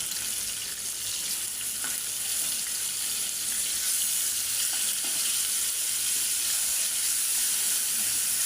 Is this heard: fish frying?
yes